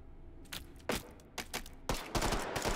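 Gunshots in the VR game Hot Dogs, Horseshoes & Hand Grenades, a scattered series of sharp moderate cracks, several spaced single shots then a denser volley toward the end.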